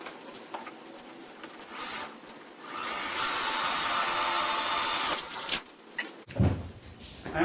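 A power drill bores a hole in the cowl of an EZGO Express S4 golf cart, a whirring grind of about two seconds building and held, surrounded by brief clicks and handling noises.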